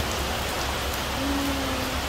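Steady rain in Lago Agrio, Ecuador, falls as a dense, even hiss of drops on surfaces, constant and fairly close with no pauses and no voices.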